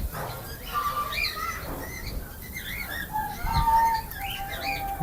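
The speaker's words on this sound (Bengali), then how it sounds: "এখানে কবুতর আছে, লাভবার্ড পাখিও আছে ভাই" Pigeons and lovebirds are kept in cages at Batu Caves in Selangor, Malaysia. Scattered chirps and short calls come from a mix of birds at moderate distance, with soft cooing in the background and no talk.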